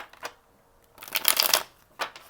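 Mermaid Tarot cards riffle-shuffled in quick crisp bursts: a short flick, a longer flurry of slapping cards, then another brief flick, close and clear.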